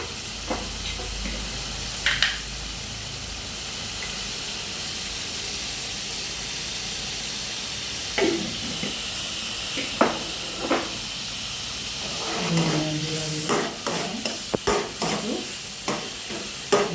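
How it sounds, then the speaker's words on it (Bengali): Spice paste of onion, garlic, coriander and cumin sautéed with small shrimp in a pan, a continuous close hiss and sizzle with occasional stirring scrapes and clinks that cluster toward the end, with no voices. "মশলাটাকে একটু ভালো করে কষাবো"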